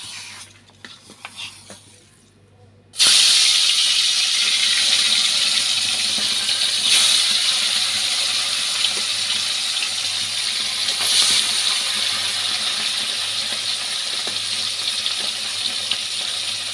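Bata fish hits hot oil in a wok with a sudden loud burst of sizzling that carries on as a dense, steady hiss, following a few quieter handling sounds, close up with no talking.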